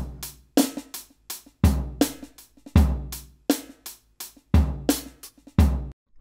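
Drum kit groove with snare hits laced with soft ghost notes, a steady loud pattern of sharp strikes and quieter taps played alone with no talk.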